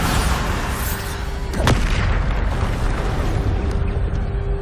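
A Bombarda blast spell in the Hogwarts Legacy video game, heard as a sharp booming explosion that swells into a sustained rumbling roar amid battle noise.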